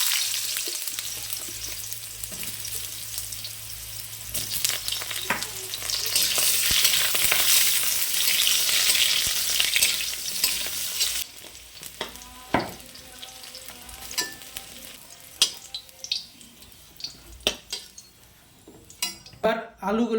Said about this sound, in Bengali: এবার কলাগুলোকে ভেজে নেব